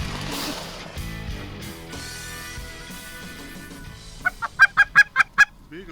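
Geese honk in a rapid, loud run of about six evenly spaced calls during a goose hunt in Saskatchewan, Canada, following a stretch of low, muddled background noise.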